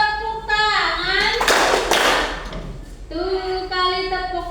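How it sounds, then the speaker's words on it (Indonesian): A classroom of children clapping hands in counted claps during a lesson, a short burst of claps between a woman's sung or spoken prompts, with her voice heard before and after. "2 kali tepuk tangan."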